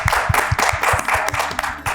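A studio audience at an Eid TV show claps steadily in dense, rhythmic applause for the production team, close and loud with no talking.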